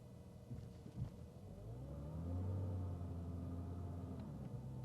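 A 2008 Porsche Cayman S Porsche Design Edition 1, in automatic, rolls slowly over a speed bump, heard as a low, steady engine hum that swells briefly with a soft thump early on.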